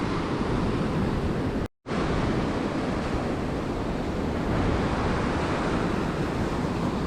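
Ocean surf on an Assateague Island fishing beach roars as a constant, loud wash of breaking waves and wind, broken once by a sudden moment of silence.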